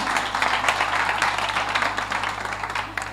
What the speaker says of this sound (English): Can you clap a little bit better for them?